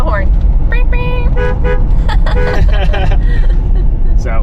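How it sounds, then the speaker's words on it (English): A newly bought camper van sounds its horn in a few loud, tonal honks, close by, with some background hubbub. "Honk the horn."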